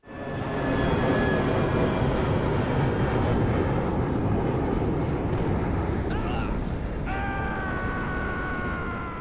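Steady loud roar of a plane's interior in GTA 5, a continuous engine and wind drone throughout, with brief tonal whines near the end.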